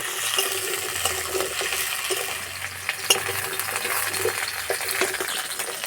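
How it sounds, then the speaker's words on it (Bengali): Okra frying in about two spoonfuls of oil in a wok, stirred with a spatula that scrapes and clinks against the metal at irregular moments over a continuous close sizzle. "এটা হালকা লাল লাল করে ভেজে নেব"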